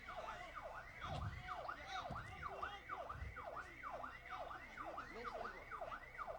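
An ambulance siren called during a prison riot wails in a fast, steady up-and-down cycle. It sounds distant and faint, with rumbling background noise from the scene.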